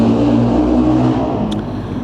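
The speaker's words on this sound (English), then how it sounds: "it's a bloody motorbike, that's what's causing noise" A motorbike engine drones loudly nearby, its steady roar easing slightly as it passes by.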